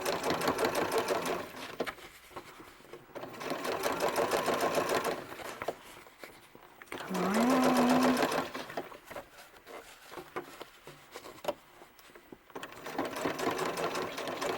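A sewing machine stitches a pleated hat for a male ball-jointed doll in several close, rapid bursts with short pauses between them.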